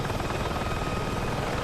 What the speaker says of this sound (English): the helicopter wants to stop